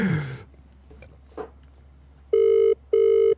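During a crank call, a telephone ringback sounds twice, two loud steady electronic rings with a short gap between them, heard after some faint voices.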